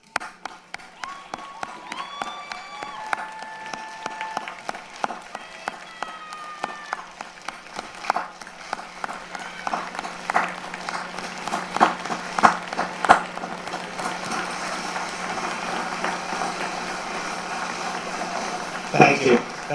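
A commencement ceremony crowd claps steadily for graduates, the applause swelling and growing denser over time, with scattered voices and a few whistles mixed in.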